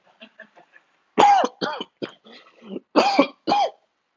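Several harsh, forceful coughs burst out close by, spaced with short gaps, followed by fainter throat sounds.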